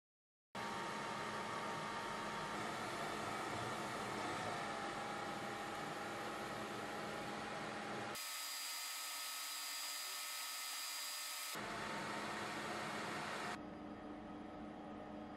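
An Atomstack A10 Pro (X7 Pro) laser engraver cutting, giving a steady, loud hiss of fan and air noise with a faint whine, briefly changing to a thinner, higher hiss mid-clip before returning.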